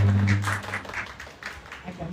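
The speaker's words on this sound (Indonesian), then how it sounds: "Boleh tepuk tangan lagi?" An audience at an intimate book talk claps in a short burst of applause, moderately loud and steady, tapering off after about two seconds.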